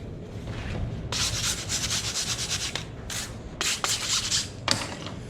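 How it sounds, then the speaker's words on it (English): A hand file scrapes across the head of an old sledge hammer in long rasping strokes that repeat in bursts, close and fairly loud, with no talking. "So now I'm going to take my file."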